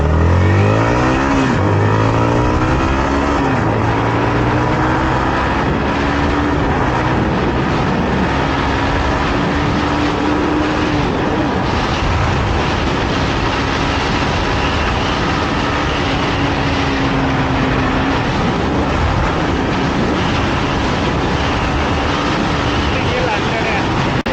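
A 2018 Yamaha MT-15 v1 motorcycle accelerates hard toward 100 km/h on a road. Its close, loud engine note climbs through several gear pulls, then settles into a steady high-speed drone under heavy wind rush, with a rider talking over it.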